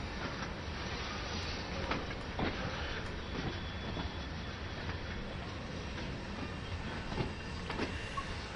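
A DB BR 204 locomotive rolls along in Train Sim World 3, a steady rumbling run with periodic wheel clicks over rail joints and occasional faint squeals, continuous and close.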